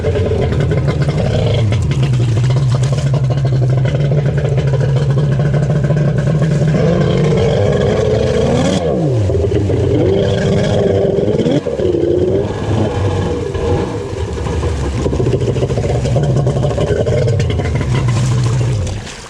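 An 1100 X2 watercraft in knee-deep water gives a loud, close, continuous engine roar that surges and sags as it accelerates, with clattering and water churning underneath and no talk.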